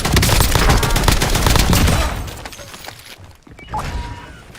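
Loud, dense bursts of rapid video game gunfire with crashing impacts fill the first half, then thin out into quieter scattered shots and a brief lull before a final burst.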